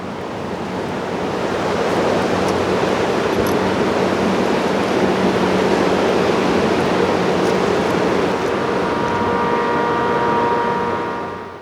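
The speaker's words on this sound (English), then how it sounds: "You can hear the water flowing past and the snow crunching beneath our feet as we walk down the path." A river flows past in mid-March with snow still on the ground, a loud broadband rush of water dominating close by, while walking footsteps are not clearly distinguishable beneath it.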